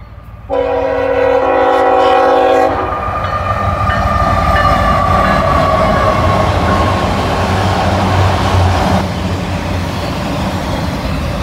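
A horn blasts from a southbound freight train hauling loaded auto racks, a loud multi-tone chord for about two seconds, then the cars roll past close by in a continuous heavy rumble with squealing wheels, no talking.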